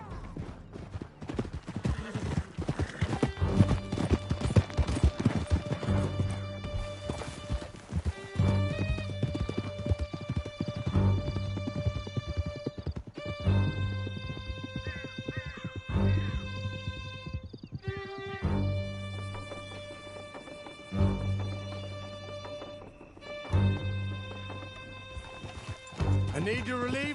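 Horses gallop through a canyon in Red Dead Redemption 2's Beecher's Hope epilogue, steady clip-clopping hooves with occasional whinnies over a sustained orchestral score, with voices speaking at times.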